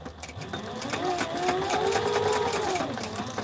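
A sewing machine stitches across a torn flight suit to tack the opened seam down, a steady mechanical whir that rises and falls in pitch as it runs for a few seconds.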